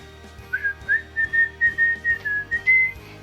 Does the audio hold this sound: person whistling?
yes